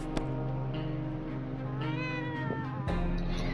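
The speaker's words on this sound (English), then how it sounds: "Every time you hear Sherikov meow like that, it's one of his endings popping up" A cat character named Sherikov meows in the survival game 60 Seconds! Reatomized, a clear drawn-out meow with rising and falling pitch over a steady electronic background hum, followed by a short louder burst.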